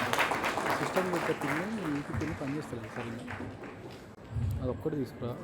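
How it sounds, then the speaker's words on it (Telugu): Guests clap at a church service for a 25th wedding anniversary, welcoming the Father. The steady, broad applause runs the whole length beneath a prominent voice. "అందరూ చప్పట్లు కొడదాం గట్టిగా"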